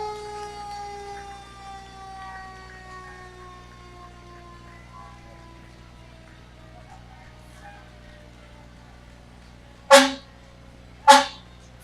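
Arlington County Engine 106 fire engine at a Memorial Day parade gives two short, loud horn blasts near the end, after a fading siren-like wail that dies down over several seconds, with crowd noise behind.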